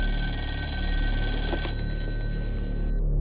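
A telephone bell rings steadily against a constant low hum, the shrill tone cutting off near the end.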